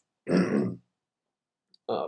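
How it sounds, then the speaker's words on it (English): A single throat clearing, close and fairly loud, followed by a brief pause and the start of another short vocal sound. "I think I need to clear my throat"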